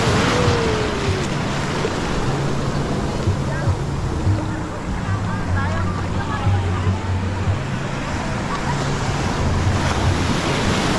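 Big ocean waves crash and wash continuously at a beach, a loud, broad surf roar with wind buffeting the microphone and faint voices underneath.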